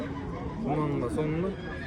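A young horse whinnies at the Karakol livestock market in a wavering, drawn-out call amid noisy crowd chatter, fairly close and loud.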